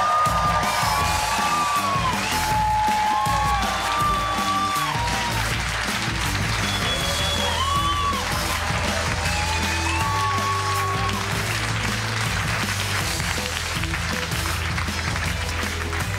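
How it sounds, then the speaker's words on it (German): A live comedy-show audience applauds and cheers comedian Atze Schröder onto the NightWash stage, with steady loud clapping throughout, whoops and whistles rising above it. "Deswegen einen riesigen Applaus für the one and only Atze Schröder."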